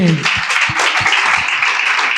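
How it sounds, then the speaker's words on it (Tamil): A congregation at a Tamil-language church service claps with a brief, dense burst of applause that blends with voices, loud and close. "கைத்தட்டுங்க ஆண்டவருக்கு"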